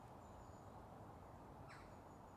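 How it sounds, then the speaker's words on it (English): A bird in a Warwickshire graveyard lets out a faint, brief cheep, with a short rising chirp standing out against quiet, steady outdoor hiss. "A bird's cheeping away."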